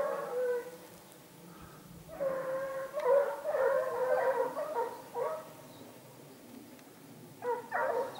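A pack of hunting dogs bays and yelps on a hare's trail in pine woodland. Overlapping howls and yips come in waves at moderate distance, with quieter gaps between them.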